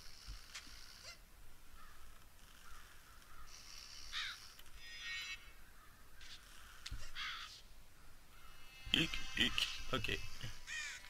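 Crows caw in the video game Child of Light, a few harsh calls in separate bursts over quiet background sound, with a voice talking at times.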